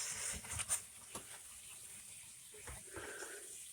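Water running from a bathroom sink faucet, a faint steady hiss and gush with a few louder splashes and drips early on, quiet and close.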